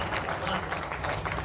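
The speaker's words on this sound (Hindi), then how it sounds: "मुझे आपसे इतनी ताली की भी उम्मीद नहीं थी जितनी आपने बताई।" Audience applause in a town hall auditorium at a Hindi poetry recital, a brief steady wash of clapping from a crowd, heard up close and fairly full, with no voices over it.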